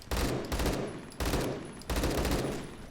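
Automatic fire from an AK12 rifle fitted with a BARS barrel in Roblox Phantom Forces: three loud, rapid bursts, each starting sharply and trailing off, with no talking.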